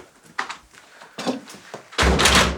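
An interior door thuds and bangs as someone comes in, with a few soft knocks and a louder slam near the end, close by and with no voices over it.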